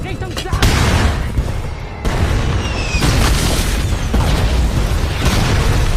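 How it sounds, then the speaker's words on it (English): Gunfire from enemy soldiers in a war film battle sequence, a dense barrage of booming shots and bursts over a continuous rumbling bed, loud and sustained for several seconds with no voices. "The audience is also shown guns being fired by the enemy"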